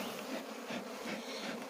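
Honeybees buzz at an apiary hive during a routine inspection, a steady close swarm hum with gentle swelling pulses and no talk over it.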